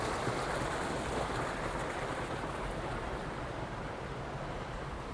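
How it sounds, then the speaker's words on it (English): Public fountains along a walk from Parc de Mar in Palma run continuously, a soft, even wash of splashing water heard from a short distance with no voices. "they have all the fountains are running. You've got the sound of running water."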